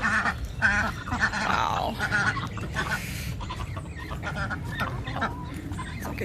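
Ducks quacking and honking close by in a rain-flooded backyard, a busy run of gabbling calls over a wet outdoor hush, with a brief exclamation from a person.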